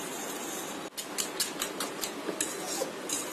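A metal fork clinks rapidly against a bowl while mixing egg, flour, chopped onion, chaat masala and chopped coriander. The taps are light, fast and fairly regular over a steady background hiss.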